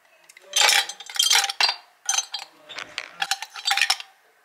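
A three-blade manual vegetable chopper working through tomatoes, onions and peppers gives quick bursts of clicking, clattering plastic-and-metal mechanism sounds in short repeated rhythmic clusters, close and fairly loud.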